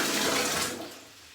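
Cold water splashes over a person, pouring in a brief, loud rush that fades away within a second and a half.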